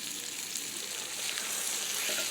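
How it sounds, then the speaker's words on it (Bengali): Pre-fried eggs go into a pan of onion masala, which gives a steady, moderately loud frying hiss throughout the short stretch, with no voice present. "এখন এখানে আমরা ডিম দিয়ে দিব।"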